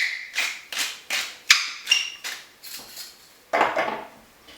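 A spoon scrapes and knocks against a pan in about ten short, sharp strokes as seasoning is mixed into a lasagne beef sauce. The strokes come in an even rhythm, close up, with no talking.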